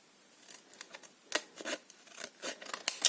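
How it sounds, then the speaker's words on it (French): Scissors snipping through paper while making a paper bag mini album, a series of quiet, close, irregular crisp cuts and rustles in a calm room. "Donc là je vais couper."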